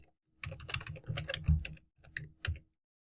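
Close, crisp keystrokes on a computer keyboard as HTML code is typed, coming in quick uneven bursts with short pauses between them and no voices over them.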